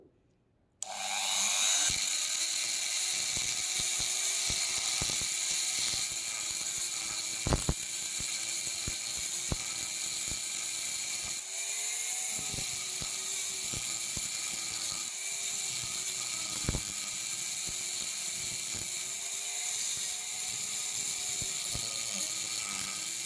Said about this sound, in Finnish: Tässä kun viilataan näitä huuhteluita